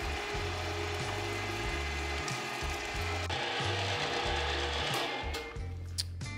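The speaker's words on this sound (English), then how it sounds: "got all the meat ground up" An electric meat grinder works pork for Polish kielbasa, a quiet, steady mechanical churn with a repeating rhythmic pulse running the whole time.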